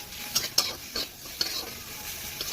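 Onions, chillies and tomato frying with salt, chilli powder and turmeric for a cauliflower-leaf fry, a soft sizzle under repeated spatula scrapes and taps against the pan at an irregular rhythm.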